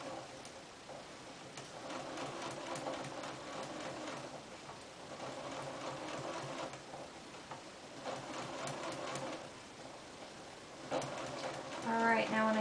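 Sewing machine runs steadily with a zipper foot, stitching piping along a fabric hem, a continuous mechanical whir close by over about twelve seconds, with a brief voice-like tone near the end.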